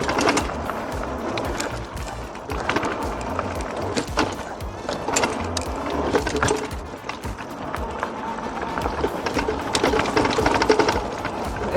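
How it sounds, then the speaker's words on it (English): On a Freesky Swift Horse electric bike ridden over rough ground, the loose battery rattles and knocks continuously amid road and wind noise, with a person speaking at times. "it's the battery rattling around"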